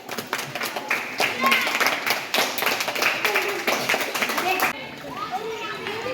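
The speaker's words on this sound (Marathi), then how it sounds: "त्यांच्यासाठी आपण एकदा जोरात टाळ्या वाजूया" A group of schoolchildren on a school trip in Pune claps together in a quick, steady burst for several seconds, with lively chatter around them, then the clapping stops.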